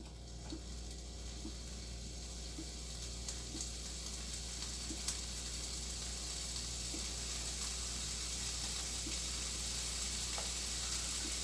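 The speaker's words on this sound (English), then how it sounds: "get this shit nice and sizzling, Turn it up just a little bit hotter" Food sizzling and frying in a hot pan, a steady even hiss throughout with faint clicks, fairly quiet and heard alone.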